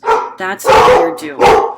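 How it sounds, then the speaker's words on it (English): A dog barks in the background in a few short bursts that overlap with a person talking nearby. "That's my dog barking in the background."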